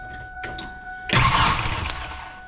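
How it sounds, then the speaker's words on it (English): A boat truck engine is turned over and catches with a sudden loud burst of roaring noise after a couple of short clicks, sustaining rough and close as a steady electrical whine runs beneath. "I'm just going to check by turning the engine over and just seeing if it sparks."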